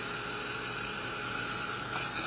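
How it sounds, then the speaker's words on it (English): A hair dryer blows with a steady, even whooshing hiss and faint motor hum, constant throughout with no talking. "A hair dryer just works fine."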